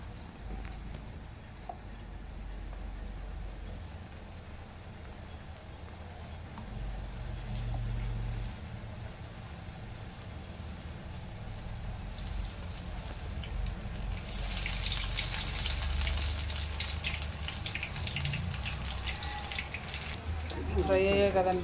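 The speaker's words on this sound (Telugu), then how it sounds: "ఫ్రై అయ్యాయి కదండి, కొంచెం ఒక పక్క వేగాక రెండో పక్క తిప్పుకుంటే బాగా ఈవెన్గా బాగా కుక్ అవుతాయి, బాగా ఫ్రై అవుతాయి" Street-style chili bajji (battered green chilies) frying in hot oil, giving a steady broadband hiss that swells louder and brighter through the second half.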